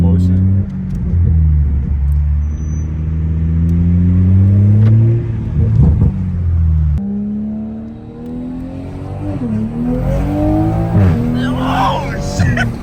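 A 500 hp Toyota Supra accelerating hard, engine rising through gears with repeated upshift dips, loud and close from inside the car, then revving and tire noise as passengers shout over it.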